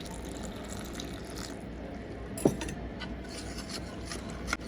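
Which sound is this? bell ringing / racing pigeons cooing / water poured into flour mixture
water poured into flour mixture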